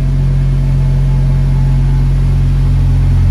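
A Volkswagen Jetta five-cylinder engine idles with a straight-through exhaust, a loud, steady, deep burble heard close up with no change in pitch.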